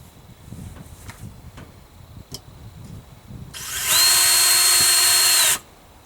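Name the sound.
power drill drilling pilot holes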